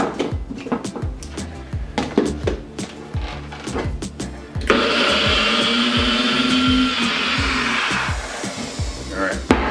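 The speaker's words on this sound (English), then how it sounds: "We'll go ahead and blend this up first." A kitchen blender whirs steadily, loud and close, as it purées olive oil, parsley, cilantro and red wine for chimichurri. Knocks and clatter come first, then the blending runs for several seconds.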